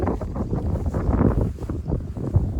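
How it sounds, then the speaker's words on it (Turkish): Strong gusting wind buffets the microphone on an open highland plateau at 1,500 m altitude, a continuous low rumbling roar that rises and falls without any other clear sounds. "Hava biraz rüzgarlı."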